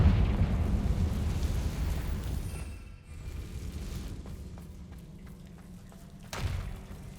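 A spell explosion in Hogwarts Legacy starts with a heavy rumbling blast that fades over a few seconds. A lighter crackle follows, then another sharp hit near the end, all loud with no talk.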